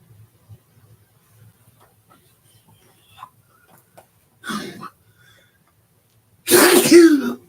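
A single loud sneeze bursts out near the end after a quiet stretch with a few small soft noises and a brief earlier sniff.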